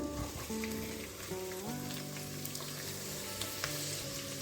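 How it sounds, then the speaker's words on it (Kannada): Onions frying in about four spoons of oil in a pan on a gas stove for chicken gravy, giving a soft, steady sizzle alone at low level under faint tonal hum. "ಈರುಳ್ಳಿ ಕಂದು ಬಣ್ಣ ಬರುವವರೆಗೆ ಫ್ರೈ ಮಾಡ್ಕೊಳ್ಳೋಣ"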